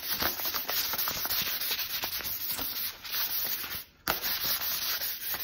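Fine 400-grit sandpaper rubs steadily over a hot, freshly burned axe handle, a close, continuous scratchy swishing in quick back-and-forth strokes with one brief pause.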